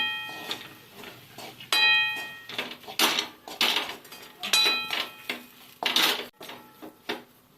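Cardamom powder being mixed into palak paneer halwa with khoya in a metal pan, producing repeated metallic clangs and ringing clinks of a spoon against the pan, loud and irregular with no talk.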